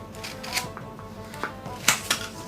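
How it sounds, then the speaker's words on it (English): Several short, sharp snips cutting off excess material from a short sword's hand-guard, irregular crisp cuts close to the microphone with quiet pauses between. "So you cut off the excess."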